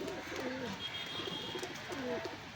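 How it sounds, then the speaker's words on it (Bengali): Rajshahi pigeons with yellow eyes coo in repeated low, warbling phrases at a busy pigeon market, close and steady over faint background murmur. "এই এক পেয়ার রাজশাহী কবুতর"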